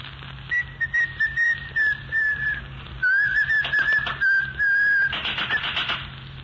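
A person whistles a lilting tune in two phrases in a hospital corridor, clear and fairly close, with faint clatter and shuffling in the background.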